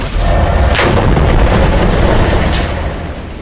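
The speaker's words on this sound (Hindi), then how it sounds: "दक्षिण लेबनान में इजराइल के द्वारा कारपेट बॉम्बिंग की जा रही है" Bombing explosions in southern Lebanon, a heavy booming blast with deep rolling rumble and a sharp crack near the start, loud and sustained before slowly fading.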